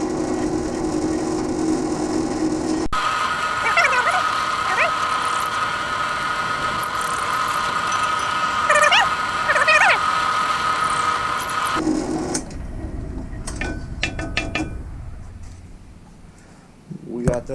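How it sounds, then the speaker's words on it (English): A CNC router drills holes in a block while making a dust boot, giving a steady mechanical whine with a strong tonal hum. Brief rattling bursts occur throughout, and the machine fades to quieter clicks and knocks near the end. "We got those holes drilled."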